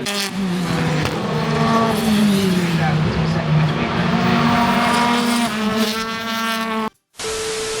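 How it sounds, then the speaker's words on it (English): BTCC touring cars racing during qualifying at Brands Hatch, a loud continuous engine roar with pitch rising and falling as the cars pass, briefly cutting out near the end before resuming. "It's now touring car qualifying. As you can hear, the cars are very, very loud in the background."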